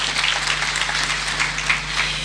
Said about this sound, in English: Please let's applaud that.